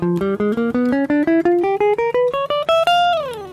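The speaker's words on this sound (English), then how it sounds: "It gives you this really weird, kind of creepy sounding scale." A G half-whole diminished scale played as a rapid run of eight-note steps climbing upward, each note cleanly struck, the final high note held and ringing out alone.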